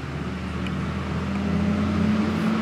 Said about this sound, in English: Hey, we got a school bus coming by. Let's wait. Nope, I was wrong. FedEx. FedEx trucks.